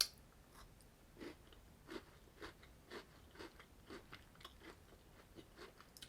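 Crunchy Bounty Secret Centre biscuit, with a biscuity base and creamy chocolate top, is bitten and then chewed in a steady series of close, quiet crunches.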